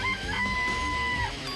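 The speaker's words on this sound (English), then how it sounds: "Chickens in the coop." Chickens clucking and crowing inside a coop in the Danganronpa video game, a busy cluster of bird calls with a drawn-out tonal cry, loud and close throughout.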